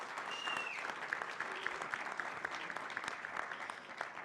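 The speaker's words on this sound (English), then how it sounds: "A round of applause." An audience at an opening event for women's, children's and adolescents' health gives a round of applause, a steady, fairly distant patter of many hands clapping throughout.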